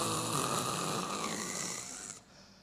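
A voice imitating loud, rasping snoring in one long sustained drawn-out snore that fades toward the end.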